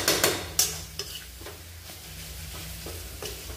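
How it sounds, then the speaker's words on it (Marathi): Tomatoes are mashed in a pan for kaju curry, the spoon scraping and knocking against the metal in uneven strokes with several sharp clinks, while a soft sizzle runs underneath and no one speaks. "टोमॅटो असेच मॅश करून घ्यायचे."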